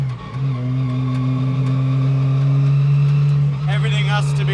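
A classic car engine drives along at low speed, its steady, loud, close-up droning hum holding a fairly constant pitch with only a slight shift early on, and a burst of higher rattling noise near the end.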